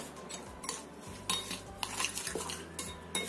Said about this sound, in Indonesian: Kita aduk sampai rata seperti ini.